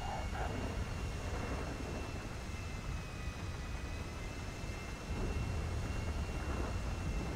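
An airplane engine in the GTA 5 video game drones as a steady, fairly faint broadband roar with a thin whine, running continuously throughout.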